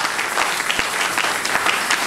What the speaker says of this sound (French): Applaudissez les Seigneur.